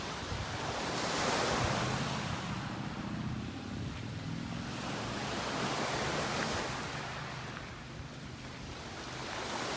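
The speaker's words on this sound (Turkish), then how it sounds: "Deniz bugün hafif dalgalı." Gentle sea waves at Palamutbükü, Turkey, wash in steady, broad swells of surf, rising and falling twice, with a light wind rush over the water and no voices.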